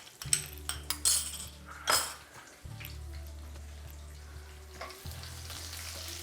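Curry leaves and a finely chopped green chili fry in hot oil with mustard seeds in a pan, a steady close sizzle broken by a few sharp utensil clinks and scrapes, with no talking.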